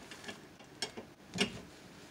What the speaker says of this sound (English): I'm just spinning this wrench